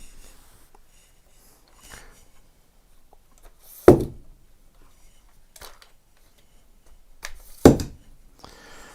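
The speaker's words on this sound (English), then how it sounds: "That is the sound of a tripod extending." Homemade tripod built from a Manfrotto and monopod parts, its legs extended in two sharp metallic clicks or snaps about four seconds apart, close and loud against a quiet room with faint handling rustle between.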